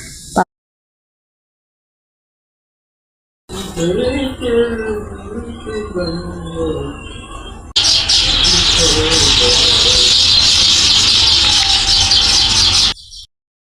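A bird calls loudly and close by in a quick run of repeated notes, then a steady hissing noise takes over until it cuts off.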